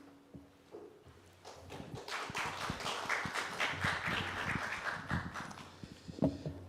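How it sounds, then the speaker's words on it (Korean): Audience clapping at a church Wednesday worship seminar as a speaker comes forward, rising from scattered claps into a moderate, fairly distant round of applause that fades near the end. "우리 나오실 때 큰 박수 부탁드리겠습니다."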